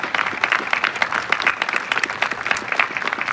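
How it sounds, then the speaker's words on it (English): Audience applause for mothers at a Mother's Day parade, with cadets in formation joining in: a dense, steady wash of many hands clapping, close and fairly loud throughout. "Let's give them all a round of applause."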